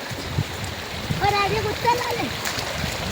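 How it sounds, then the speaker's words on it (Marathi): Floodwater rushes through a farm field like a stream, a steady nearby gushing and splashing heard beneath a person talking in the middle. "शेतात पाणी वाहतोय हे वड्यासारखा नदी असल्यासारखं"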